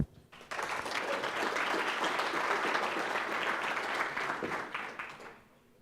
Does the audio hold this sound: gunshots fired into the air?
no